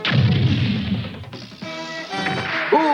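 Heavy booming crashes and thuds of a ship's cannons firing sound in quick succession, followed by clattering and a rising whistle-like tone, with no talking.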